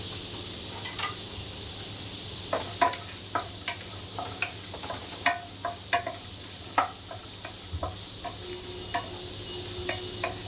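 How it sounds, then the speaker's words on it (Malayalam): Shallots and coconut pieces frying in a pan for a curry, a soft steady sizzle under repeated close clinks and scrapes of a spoon stirring against the pan in an uneven rhythm. "പിന്നെ ചെറിയ ഉള്ളി അതിടുകയാണ്. അതിട്ടൊന്ന് വഴന്നതിന് ശേഷം പിന്നെ പൊടികൾ ഇടുകയാണ് ഞാൻ."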